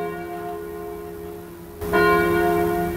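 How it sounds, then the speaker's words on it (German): Bell ringing in a video game, a steady tonal chime that swells louder partway through and keeps sounding to the end, with no talking. "Jetzt bimmelt hier die komische Glocke wieder."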